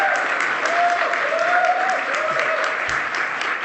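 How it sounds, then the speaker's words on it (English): A conference audience applauds as guests are introduced at a Conservative Party of Canada event, even sustained clapping from a large crowd, steady and fairly loud for several seconds. "So feel free to applaud as I introduce each guest."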